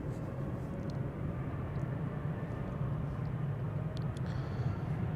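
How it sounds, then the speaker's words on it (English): An Air Baltic Bombardier C Series 300 (A220) departs Amsterdam Schiphol with a steady, moderately loud jet engine rumble and a broad roar, a few faint higher ticks above it and no talking. "this Air Baltic flight 618 to Riga, Bombardier C Series 300"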